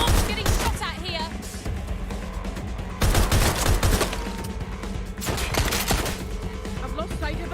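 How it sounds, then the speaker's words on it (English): Bursts of gunfire fill a Watch Dogs: Legion shootout, loud close volleys of rapid shots in several clusters with short pauses, mixed with impacts and occasional game voices. "Oh, getting shot at here."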